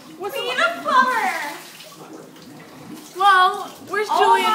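Sewer water gushing up and flooding a bathroom floor, a rushing wash of water heard beneath loud, alarmed voices talking over it.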